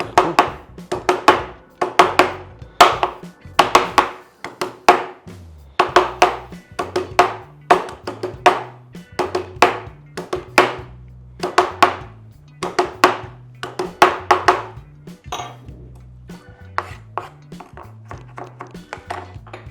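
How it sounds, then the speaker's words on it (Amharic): Garlic chopped or crushed with a knife or meat tenderizer on a board, a steady run of sharp, close knocks in quick bursts that thin out toward the end. "ነጭ ሽንኩርቱን እንከትፋለን ወይ ደግሞ በቴንደራይዘር መታመት አድርገን ነው እናደቀዋለን"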